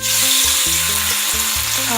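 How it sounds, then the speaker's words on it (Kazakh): Chicken pieces frying in hot oil in a kazan pot, a loud close dense sizzle that holds steady for two seconds over a low background hum, with no voices. "Алған тауық етін қазанға саламыз."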